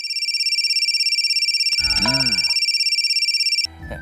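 A phone rings with a continuous, pulsing electronic tone, close and steady, with a brief burst of other sound partway through.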